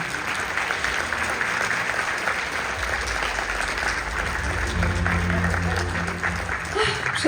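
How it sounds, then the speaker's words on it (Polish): An audience at a jubilee celebration of a municipal culture centre applauds in sustained, even clapping that fills the hall, with faint voices and low background sound mixed in beneath it. "Szanowni Państwo, wielkie brawa, Marzena Kozłowska."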